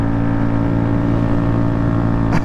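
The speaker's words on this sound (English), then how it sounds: "Riding the bike right now, going to 60 in 5th gear." A motorcycle engine pulls steadily in 5th gear toward 60, a loud, close, sustained drone with a constant low rumble and a brief rising whine near the end.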